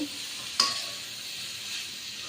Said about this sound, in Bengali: এখন আমি আর একটু নেড়ে চেড়ে দিচ্ছি